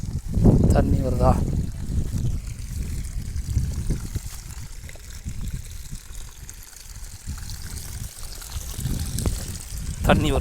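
Water rushes steadily from a pump outlet on a farm while weeding work stops, a continuous close splashing flow that runs the whole time while voices talk over it.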